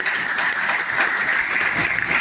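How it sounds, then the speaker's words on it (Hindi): A crowd claps energetically in a steady burst of applause, dense and close, lasting a couple of seconds with no clear talking. "एक जोरदार तालियां अपने लिए बजाएं।"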